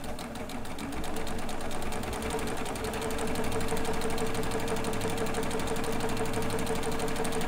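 A serger stitches knit fabric with a continuous, even mechanical whir and rapid rhythmic chatter, close and steady from start to finish.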